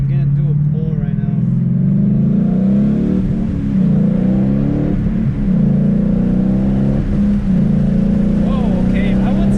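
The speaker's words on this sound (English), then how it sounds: "Here, I'm gonna do a pull right now." A 2014 Ford Mustang GT V8 pulls hard, its engine drone loud and close from inside the cabin, rising in pitch through the gears with brief dips at the shifts, while a person speaks over it.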